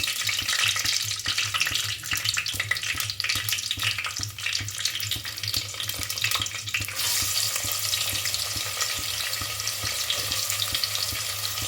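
Sliced big onions sizzle steadily in hot oil for chicken biryani, a dense continuous frying hiss with a faint low hum beneath, close and alone without talk.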